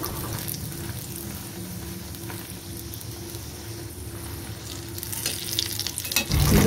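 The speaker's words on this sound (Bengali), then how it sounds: "আবার একবার ভালো করে ভেজে নেব উল্টে" Kochuri stuffed with chholar dal fry in hot oil, giving a continuous bubbling sizzle close by that swells louder near the end as the pastry is turned.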